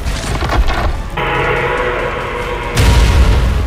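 Car-rigged bombs exploding in a monster-island fight with a T-Rex, a loud deep boom with a sustained rumble and a second heavy blast near the end.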